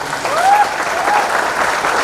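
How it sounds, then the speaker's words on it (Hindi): A crowd at a Miss India 2020 runner-up event and auto rally gives a burst of steady, fairly loud applause that runs throughout, with a faint voice rising over the clapping. "एक बार फिर से हाथ उठाकर हवा में जोरदार तालियां होनी चाहिए"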